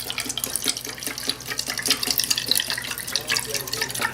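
Naphtha and cornstarch silicone mixture being poured into a mold container, a close, trickling, splashy liquid stream with small drips and gurgles, steady for several seconds with no talking.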